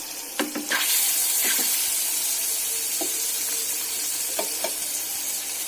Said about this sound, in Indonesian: masukkan pempek yang sudah ditiriskan tadi ke dalam minyak yang sudah panas